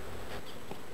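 Honey bees buzz in a soft, steady drone during a mid-summer hive inspection, close and fairly faint, with no voices.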